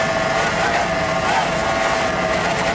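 A B-class racing powerboat engine roars in a steady, distant drone at an offshore grand prix, mixed with wind noise.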